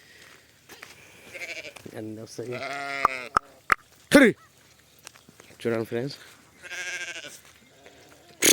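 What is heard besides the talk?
lambs bleating as they come to the village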